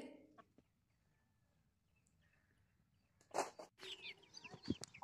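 Near-quiet outdoor stretch in a cornfield garden, then foraging chickens cluck and squawk in short bursts nearby, with a few sharp chick-like chirps toward the end.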